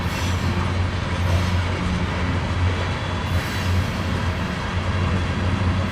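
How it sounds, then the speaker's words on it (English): A BNSF coal train hauled by an ET44C4 locomotive rolls past near Spokane Valley, its rails giving a loud, steady rumble with a humming drone and faint wheel clatter and no letup. "Wow, this is a nice long train."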